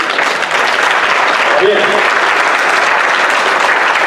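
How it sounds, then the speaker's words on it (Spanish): A church congregation breaks into loud, sustained applause during a pastor's sermon, dense clapping with a brief voice heard amid it. "Un aplauso a Jesús."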